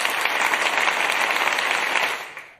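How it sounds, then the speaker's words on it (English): A studio audience gives a dense, steady round of applause that holds strong for a couple of seconds and then quickly fades out at the end. "let's give them a round of applause for that"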